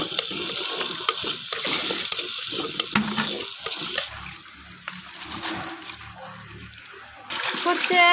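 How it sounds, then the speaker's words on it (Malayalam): Onion and tomato with a little salt sautéing in a pan, giving a close, busy sizzle with scraping and stirring that drops away for a few seconds and then returns. "ഇതൊന്ന് വഴറ്റിയെടുക്കണം."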